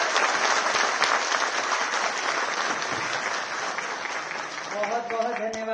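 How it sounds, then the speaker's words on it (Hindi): A large audience claps loudly and steadily to welcome the chief minister, sustained dense applause filling the hall, with a voice starting to speak faintly over it near the end. "आइए जोरदार तालियों से हम आदरणीय मुख्यमंत्री महोदया का अभिनंदन और स्वागत करें"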